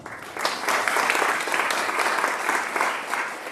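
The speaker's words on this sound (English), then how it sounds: "If you agree, please applaud." Audience applause at a Small Business Week networking celebration and awards luncheon: a dense, steady wash of clapping from a sizable crowd, sustained evenly for several seconds with no talk over it.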